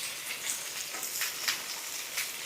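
Baby potatoes fry in hot oil for a chilli, tangy starter, giving a soft continuous sizzle with scattered crackling pops, fairly faint and close, with no voices.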